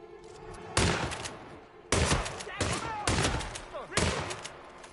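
Shotgun blasts in the video game Hitman 3, four heavy booming shots spaced about a second apart, each with a short ringing tail over low background noise.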